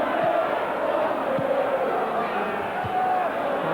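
A football stadium crowd at a Queens Park Rangers versus Liverpool match roars in a broad, continuous swell of cheering and chanting, loud and sustained, with a commentator talking over it.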